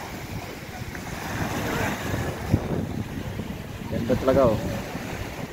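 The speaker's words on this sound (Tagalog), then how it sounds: "Lakas ng alon" Strong waves wash onto a Zambales shore with steady wind buffeting the microphone, a broad rolling surf roar that swells near the end, while someone talks over it.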